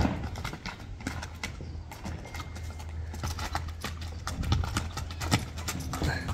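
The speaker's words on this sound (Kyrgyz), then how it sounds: "Тектүү ат кара байыр сурагандарга мына достор." A black bay horse, three years old and about 1.52 m tall, walks with a steady, close clip-clop of hooves, each step sharp and distinct, with little else around it.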